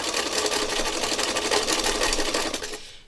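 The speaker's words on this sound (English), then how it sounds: "We're sewing ribbon roads." A sewing machine stitches ribbon onto fabric, running in a steady, continuous buzz at close range for the whole stretch, with no voices over it.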